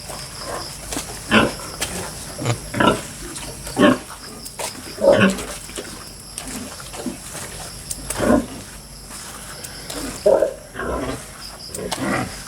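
Pigs in a pen at a closed-down piggery grunt and snort in short, separate bursts roughly every second or two, fairly close and moderately loud over a quiet background.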